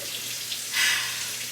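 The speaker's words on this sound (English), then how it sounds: "we are just filling our pot with hot water" Hot water runs from a tap into a kitchen pot, a steady hiss that swells briefly louder midway through, with a low electrical hum underneath.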